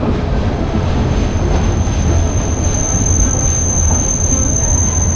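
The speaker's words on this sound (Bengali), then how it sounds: "আমাদের ট্রেনটা এখানেই থামলো যাত্রীরা উঠলে আবার ট্রেনটি চলতে শুরু করবে" A train rumbles steadily and loudly up close as it stops at a station, with a thin high-pitched whine running over the low mechanical drone; no voices.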